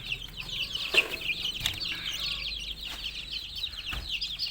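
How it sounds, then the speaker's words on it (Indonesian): Young chickens near 40 days old clucking as they feed on mixed feed made with kitchen scraps inside a box, a steady chorus of overlapping close clucks and chirps with occasional louder calls, no talk. "ini ayam-ayamnya sudah mulai makan"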